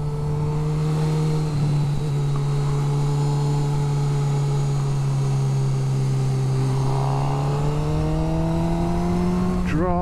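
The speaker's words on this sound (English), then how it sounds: "I've got it in quite a high gear and it's still pulling quite nice" A 2022 Honda CB1000R Black Edition motorcycle engine pulls steadily in a high gear on a wet road, with a loud sustained drone that shifts slightly and then rises near the end.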